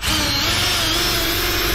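A power drill drives screws to mount musical air horns on a truck, giving a short, loud, continuous whirring burst close by.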